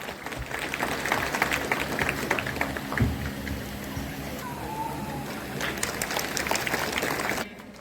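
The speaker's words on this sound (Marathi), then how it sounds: "कृपया आपण टाळ्या वाजवाव्या" A crowd claps steadily at a Constitution Day ceremony in Arjuni Morgaon, continuous applause lasting several seconds with a brief louder thump partway through, then tapering off.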